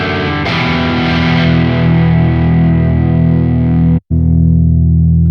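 Loud, heavily overdriven electric guitar chords ring out through a Neural DSP Quad Cortex amp modeler preset, sustaining thickly with one brief cut before the crunchy tone resumes.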